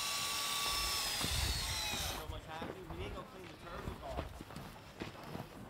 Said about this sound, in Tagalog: May kabayo pa dun oh.